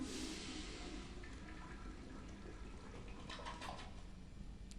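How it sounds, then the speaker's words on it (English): A toilet flushes in Mass Effect 2: a rushing burst of water at the start settles into a softer refilling trickle, fairly close and alone. "Oh, you can flush it in Mass Effect 2"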